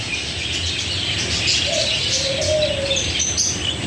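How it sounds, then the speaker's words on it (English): Birds cooing at a heritage park, likely doves, with a few soft, low coos and faint chirps heard over a steady outdoor background hiss. "But they're beautiful birds."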